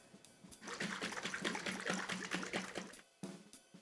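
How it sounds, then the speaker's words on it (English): Salad dressing poured over cooked lentils, a soft liquid splashing and trickling pour lasting a few seconds, close but quiet, with a brief pause near the end. "We're just gonna pour our dressing right over our lentils."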